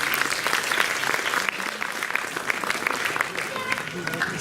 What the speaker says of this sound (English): Can we give a round of applause to our teachers?